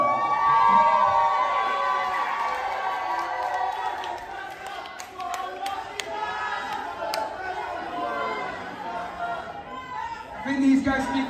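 A wrestling crowd chatters, shouts and cheers in a dense, lively wash, with excited whoops rising and falling over several seconds and swelling again near the end.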